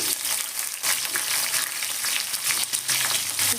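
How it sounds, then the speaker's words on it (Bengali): Round slices of star fruit (carambola) for a sweet-sour chutney fry in hot white oil, a loud, close, steady sizzle with repeated crackling bursts as they are stirred. "এবার আমি দিয়ে দেবো যে গোল গোল করে রেখেছিলাম সেই কামড়া মাংগুলো তেলের মধ্যে"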